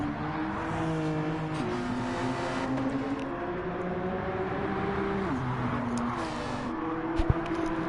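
Race cars circling Mount Panorama in Australia in a PS4 racing game, several engines droning and shifting pitch together in a continuous whine, with a sharp knock near the end.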